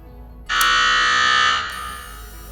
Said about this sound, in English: a buzzer to sound the alarm